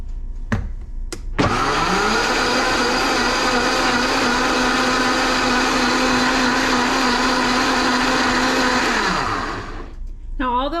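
A blender whirring a homemade lectin-free ice cream base of coconut and almond milk creamer, cocoa, vanilla extract, vanilla bean paste and salt, starting with short pulses, then a loud, steady motor whine for about eight seconds before spinning down.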